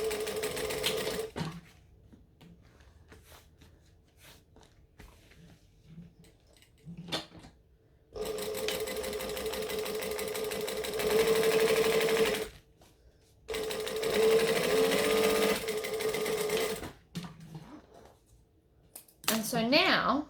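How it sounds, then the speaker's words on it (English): A sewing machine stitches a vinyl seam, an eighth of an inch to each side, in several steady, fast-running bursts of whirring mechanical stitching. Spoken explanation comes in between the runs. "I'm going to stitch 1/8 inch each side of the seam I just created"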